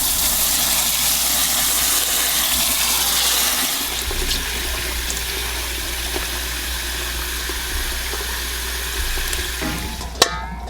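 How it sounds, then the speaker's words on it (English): Water pours and rushes steadily for several seconds as cooked glutinous rice balls are strained and rinsed with cold water, then eases to a quieter trickle, ending with a brief clatter. "go ahead and strain this and then put it through some cold water"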